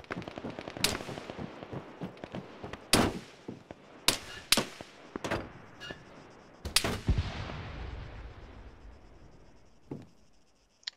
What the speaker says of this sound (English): No, it's them shooting at us.